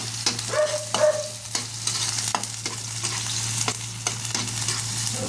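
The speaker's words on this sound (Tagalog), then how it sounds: "halu-haluin ko lang itong mga rekado" Onion and garlic fry in a pan while a utensil stirs them. A steady sizzle runs under repeated scraping and clinking strokes, close and clear, with no talking.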